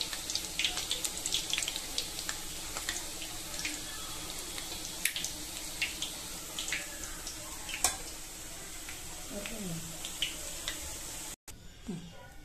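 Boondi batter drops frying in hot oil, a steady dense sizzle and crackle with many tiny pops throughout, close and fairly quiet, briefly cutting out near the end.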